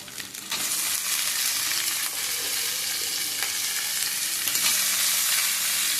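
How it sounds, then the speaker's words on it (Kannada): Crab pieces fry in a hot pan for Mangalore-style crab sukka, giving a steady, loud sizzle that carries through the whole stretch with faint stirring scrapes and no voices. "ಇದಷ್ಟು ಚೆನ್ನಾಗಿ ಫ್ರೈ ಆಗಬೇಕು"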